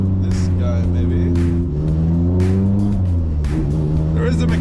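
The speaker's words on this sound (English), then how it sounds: "There is a McLaren behind me and a McLaren drift car." A car engine revs and climbs through gears at a drift event at Ebisu Matsuri, with a McLaren drift car on the track. The engine is loud and close, pitch rising and dropping with shifts, and a voice talks over it.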